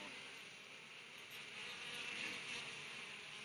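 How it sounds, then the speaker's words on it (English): Honey bees of a dark strain swarm at an open hive on a California bee ranch, a dense steady buzz that swells slightly midway, close and continuous with no talking. "These bees are black."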